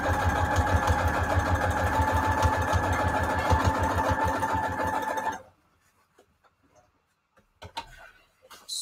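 A sewing machine runs a straight stitch, a fast steady mechanical whir and rhythmic chatter close by for about five seconds, then stops, leaving quiet with a few faint handling clicks.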